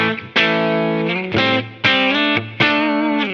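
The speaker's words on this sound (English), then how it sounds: "So it sounds like a single coil." A PRS SE Custom 24-08 electric guitar with its bridge pickup switched to single-coil mode rings out four strummed distorted chords, each struck sharply and left to decay, loud and close with nothing else heard.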